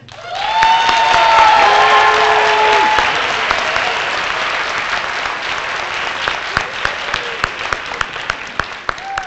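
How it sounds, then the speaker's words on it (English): At a graduation ceremony a large crowd breaks into loud sustained applause with some cheering, then the clapping thins to scattered individual claps near the end. "I'd like to give them all one good round of applause"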